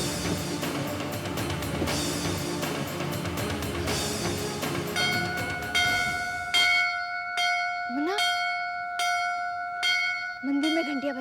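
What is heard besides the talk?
temple bells ringing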